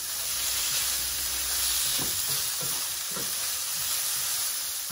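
Meat frying in hot oil and rendered fat for pancit guisado: a loud, continuous hiss and sizzle with occasional stirring scrapes, close and steady, without speech.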